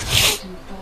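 A single short sneeze, a sharp burst of breathy noise that fades into quiet.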